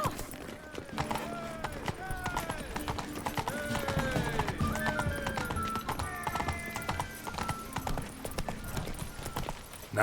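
Horse hooves clip-clopping at a steady run in the Witcher 3 game, with occasional whinnies and game music, continuous and fairly loud, with someone speaking over it.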